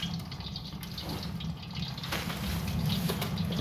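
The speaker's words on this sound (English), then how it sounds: "You can hear it boiling. That's just vegetable oil now." Vegetable oil boils inside a homemade air-tube waste oil burner, giving a steady close bubbling and sputtering hiss with faint crackles throughout and no talking.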